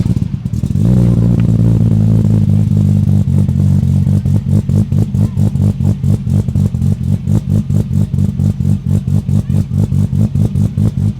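A Holden Torana with a swapped 2JZ engine starts up and settles into a loud, lumpy idle with a steady pulsing rhythm, heard up close and alone.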